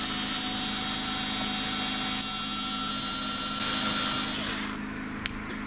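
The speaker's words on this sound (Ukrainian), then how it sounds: "Не знаю, чи справиться цей шурупокрут маленький." A small Intertool cordless screwdriver driving a screw, its steady motor whine running continuously and fairly loud for several seconds before tapering at the end, with no talk over it.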